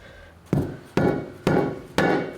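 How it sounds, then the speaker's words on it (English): A soft hammer strikes a thick tyre bead on a Jeep TJ rim in four evenly spaced, heavy, dull thuds, close and loud with no talk. "I like to start it off with a nice soft hammer."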